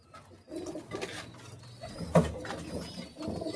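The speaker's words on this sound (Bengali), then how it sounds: "আসেন আপনাদের কিছু কবুতর দেখাই" Red Bull pigeons in a loft give low, soft coos against quiet background rustle, with one brief louder coo near the middle.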